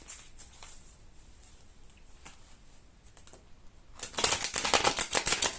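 Tarot cards shuffle and slide on a table, starting with soft sparse taps and ending in a rapid, close riffle of crisp clicks.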